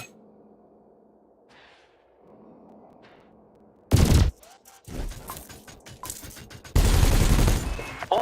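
Ship weapons in Elite Dangerous firing at floating canisters during combat training: a faint low hum first, then a loud, sharp volley of blasts, scattered crackling shots, and a second sustained heavy burst of fire.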